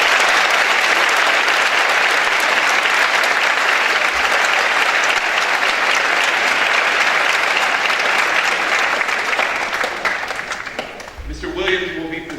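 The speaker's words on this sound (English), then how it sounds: "Give them a round of applause," An audience at a school awards assembly claps loudly and continuously for about ten seconds, the applause fading near the end as a voice begins speaking over a microphone.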